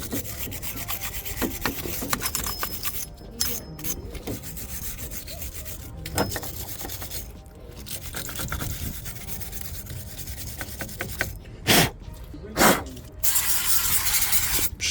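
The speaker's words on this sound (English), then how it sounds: "My brush, and just brush it all off." A brush scrubs dirt off a rusty brake caliper on a 2013 Ford Focus ST-2, producing close, continuous back-and-forth rasping strokes with a few short pauses and sharper scrapes near the end.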